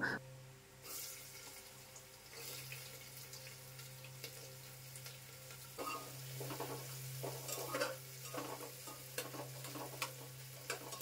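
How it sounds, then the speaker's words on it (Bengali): Sliced onions frying in oil with cardamom, cinnamon, cloves and bay leaves in a pressure cooker, ahead of marinated mutton. A soft, steady sizzle sits under repeated stirring scrapes, with a faint low hum throughout. "এবারে পেঁয়াজগুলো খুব ভালো করে ভেজে নেব।"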